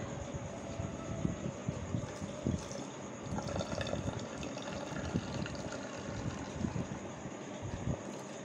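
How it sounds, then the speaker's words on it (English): Vinegar poured into a bottle for a baking soda and vinegar reaction, giving a steady liquid pouring and filling rush with bubbly gurgles throughout, close and moderately loud with no talking. "We pour vinegar inside the bottle."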